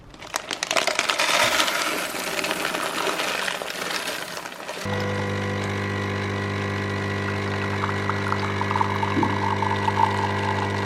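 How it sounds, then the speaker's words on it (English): A coffee machine grinds with a loud rattling crunch for about five seconds, then switches to a steady pumping hum as it brews, close by and continuous, with no voices. "I'm going to get these opened in the machine, and then we'll have coffee"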